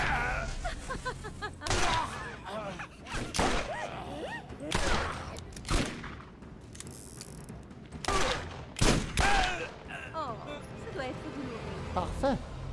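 Irregular bursts of gunfire from weapons in the video game Borderlands, with quick clusters of sharp shots and mechanical clicks, partly mixed with someone talking excitedly over the action.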